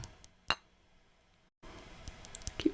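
Containers, one holding salt, clinking together up close in a quiet room: a crisp single clink, a brief pause, then softer taps and a final clear clink.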